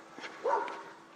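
A dog that has just been woken up gives a single short, faint bark at a distance, with quiet surroundings before and after.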